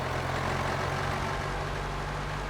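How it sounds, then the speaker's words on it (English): A truck engine in the driving game Drive Beyond Horizons drones with a steady low exhaust rumble and broadband roar, holding an even loudness throughout with no talking over it. "Got a weird exhaust note."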